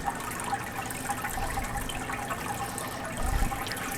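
Groundwater runs steadily into a basement sump pit, making a continuous trickling, splashing wash of water that swells slightly near the end.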